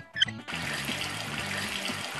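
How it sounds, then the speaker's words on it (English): Water from a faucet runs in a kids' hospital video game, a steady trickling stream that begins abruptly after a short musical chime and continues under light game music tones. "Turn on the faucet to wash hands!"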